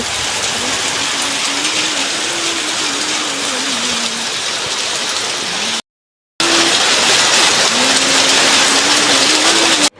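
Steady, loud rain pours down in a village, a continuous broadband wash with a brief silent gap near the middle and a faint low tonal hum running beneath.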